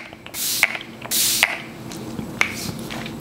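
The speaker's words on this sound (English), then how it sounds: "I think I'm gonna put a couple more sprays." Two short, bright hissing bursts of makeup setting spray from a pump spray bottle, each followed by a small click of the nozzle, fairly close and clear with no talking.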